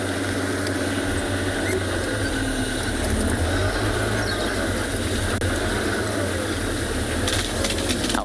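A safari vehicle's engine runs steadily on an afternoon game drive in South Africa, a continuous low rumble close by with a faint rattle and no speech over it.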